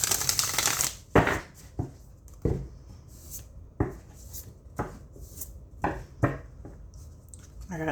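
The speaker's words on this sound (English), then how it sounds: "this is a really nice shuffle" Tarot cards shuffled by hand, a run of crisp riffling bursts and soft slaps repeating every second or so, close and fairly quiet, with no talking.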